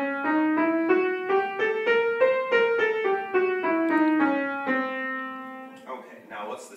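Single piano notes step through an octatonic scale that begins on a half step, rising and then falling back at a steady pace, bright and close, with brief talking just after the last note.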